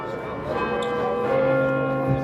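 A church bell rings outdoors during a street demonstration in Rochdale, its steady sustained tones layered over crowd murmur and a speaking voice amplified nearby, moderately loud throughout.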